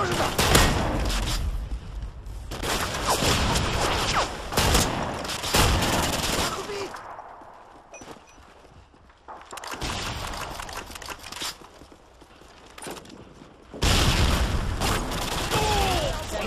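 Bursts of gunfire ring out in a team deathmatch round on the Vacant map, with rifle-mounted shotguns in play: dense clusters of loud shots and booms come in waves, with quieter gaps between them and some voices underneath.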